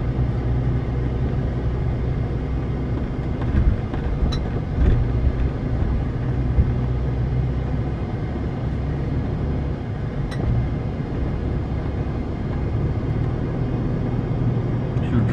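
A 4x4 vehicle creeps slowly along a sandy track near Ponta Malongane, Mozambique, its low, steady engine rumble and rolling noise continuing throughout with a few faint clicks.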